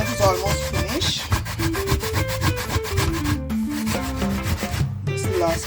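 Coconut being grated on a hand grater gives a rapid run of rough, rhythmic rasping strokes, close and fairly loud, with short gaps between bursts.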